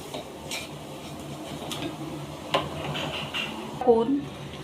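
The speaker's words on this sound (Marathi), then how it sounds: "दूध पावडर टाकून छान असं परतून घ्यायचं" A spatula scrapes and stirs moong dal halwa with milk powder in a pan, making a soft steady rustle with a few light clinks near the end, all under continuous talking.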